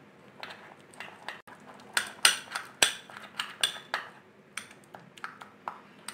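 Metal spoon clinks and scrapes against a bowl while flaxseed and gram flour are mixed into a paste with rose water, a quick irregular series of bright taps, close and fairly quiet, with no talking.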